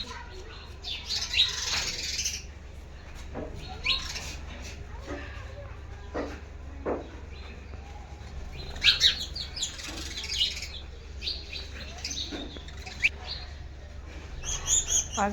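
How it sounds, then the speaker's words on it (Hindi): Small birds chirp at a home in scattered high bursts, some near and some farther off. A steady low hum and faint background voices run underneath. "आज के टाइम में किस किस के घर पर मिलती हैं चिड़िया"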